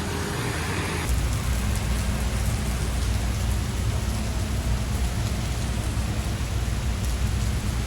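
Heavy rain pours down steadily at a bus stand in Malaysia, a dense, loud, unbroken roar of falling water with no voices.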